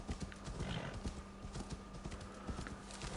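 Horse hooves gallop in Assassin's Creed Valhalla, a steady run of clip-clop beats carrying through the whole stretch, with a brief whinny and no talk over it.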